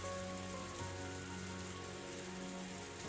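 Rain in the visual novel game Higurashi: When They Cry falls as a steady, soft hiss, with a faint low tonal hum running beneath it and no voices.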